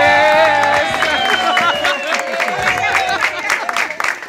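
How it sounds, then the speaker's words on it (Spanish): An audience at a 40th birthday party show claps and cheers, loud and dense, with voices mixed into the applause. "Bueno, un aplauso."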